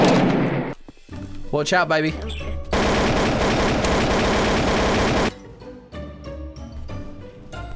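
Gunfire in Garry's Mod DarkRP, with sharp shots and then a long, loud stretch of sustained automatic fire, followed by scattered pops, as someone speaks briefly.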